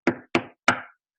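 Three firm knocks on a front door, evenly spaced and close, each a sharp rap with a short decay, alone with no voices.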